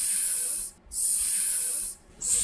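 A voice imitates a snake's hiss with a long drawn-out s sound, repeated three times with short gaps, close and loud, in an English phonics lesson.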